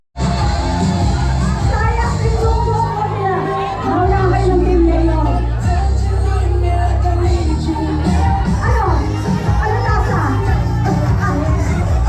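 A crowd at a festive community event roars and shouts together, loud and sustained for the whole stretch, with excited voices and whoops mixed in and an amplified voice over the din.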